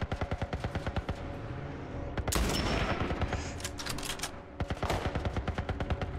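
Rapid gunfire from The Last of Us Part I, loud close bursts of repeated shots with a dense, heavier volley in the middle, then more quick shots, with no talking.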